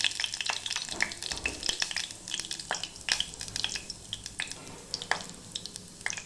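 Cumin and mustard seeds crackle and pop in hot oil, with sharp sizzling bursts and spattering pops over a steady frying hiss.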